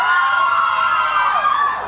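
Audience at a Telugu sangeet celebration cheering and whistling loudly, a dense sustained roar with shrill whistles rising and falling throughout, close and continuous without speech.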